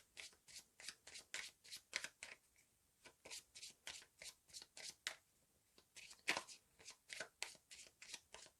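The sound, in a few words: shuffling playing cards for Pandemic Legacy board game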